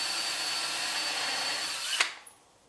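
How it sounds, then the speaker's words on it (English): Power drill boring a hole through a deer antler for a candelabra, a steady high whine running for two seconds before abruptly stopping with a sharp click, followed by a small tap and quiet. "So I'm going to drill a hole in this one, mate them up"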